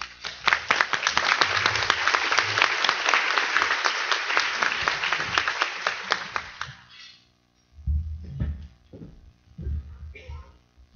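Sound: audience applause welcoming a speaker

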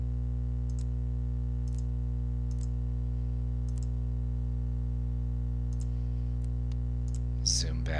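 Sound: computer mouse clicking

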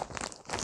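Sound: crinkling of yarn packaging

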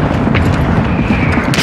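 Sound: RPG rocket explosion in a video game

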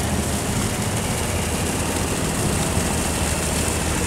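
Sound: tugboat engine running

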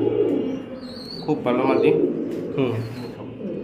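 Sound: racing pigeons cooing in a loft

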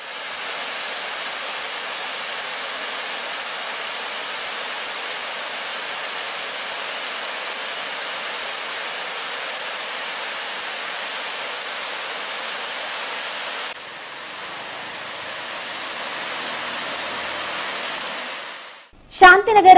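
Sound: waterfall cascading over rocks

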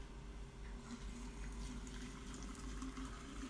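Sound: boiling water poured into a jug

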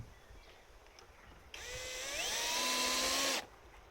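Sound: power screwdriver driving screws into beehive roof

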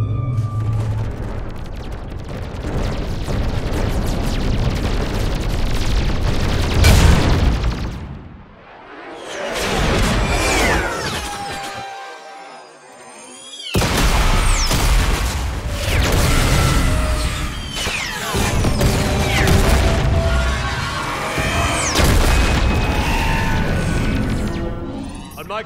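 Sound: weapons fire and explosions in Mass Effect video game battle

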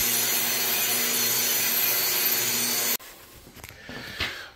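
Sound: grinder grinding concrete subfloor slab

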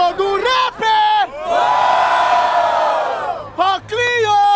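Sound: crowd cheering for the rapper at a freestyle rap battle

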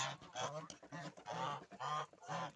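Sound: goose honking

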